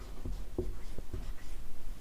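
A pen scratches out short strokes on a board during a chemistry lesson, with three or four quick distinct taps and squeaks over a low background hum.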